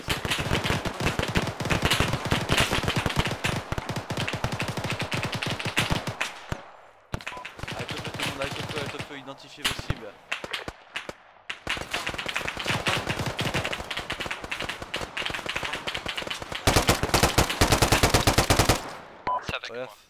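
Automatic gunfire from the southeast in Arma 3 rattles in long, rapid bursts across most of the stretch, pausing briefly once, with squad voices talking over it.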